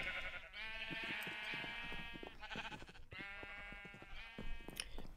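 Sheep bleat repeatedly in two long, loud, close calls with shorter bleats between, alone without talk.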